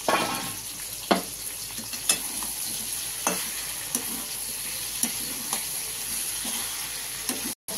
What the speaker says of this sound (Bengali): দিয়ে দিচ্ছি চিংড়ি মাছটা,